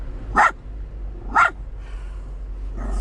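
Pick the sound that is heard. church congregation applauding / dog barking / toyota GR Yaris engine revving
dog barking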